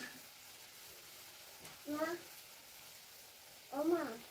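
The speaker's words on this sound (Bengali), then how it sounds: "নিমকিটা আমি হালকা একটু ভাজতে দেবো" Nimki, a Bengali fried snack, frying gently in oil: a faint, steady sizzling hiss runs throughout, interrupted twice by short bursts of a voice speaking nearby.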